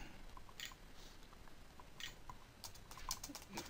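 Keys on a computer keyboard tapped in quick, light bursts of typing, faint and close, with a few louder clicks near the end and no voices.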